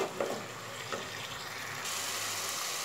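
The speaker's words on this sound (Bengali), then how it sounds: "দিয়ে পেঁয়াজ, রসুন, আদা কাঁচা লঙ্কাকে খুব ভালো করে কষিয়ে নিতে হবে।" A paste of onion, garlic, ginger and green chilli fries in a pan with a soft, steady sizzle and a few faint stirring scrapes, low in level and without speech.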